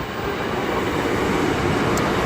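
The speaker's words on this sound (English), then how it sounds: "We have a train passing by." A train passing by outdoors gives a loud, steady, broad rumble that fills the whole short stretch without letting up.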